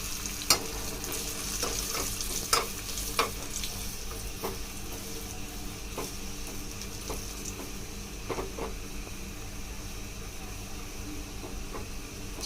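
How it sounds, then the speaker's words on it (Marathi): Curry leaves, chopped garlic, a byadgi chili and a pinch of asafoetida roasting in hot oil for a dal khichdi tempering, a steady close sizzle with a few sharp crackles and pops early on, no voices. "छान 1 मिनिटच्या आधी ही थोडी चांगली भाजून घ्यायची आहे"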